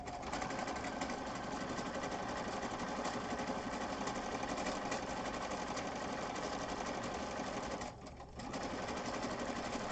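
A sewing machine sews around the outside edge of a piece, a continuous fast mechanical whir held steady nearly ten seconds with one brief pause near the end.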